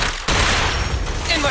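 Heavy Striker gunfire in the Zenless Zone Zero video game opens with a sharp blast, then settles into a dense, sustained barrage with a deep booming low end.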